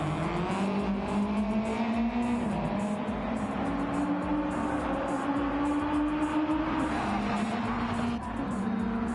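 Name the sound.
Subaru WRX race car engine in Gran Turismo 7 video game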